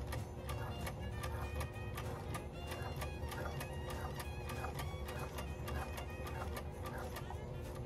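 Home sewing machine steadily stitching around an appliqué shape on fabric, a fast, continuous mechanical rattle at an even pace, close and fairly loud, with no talk.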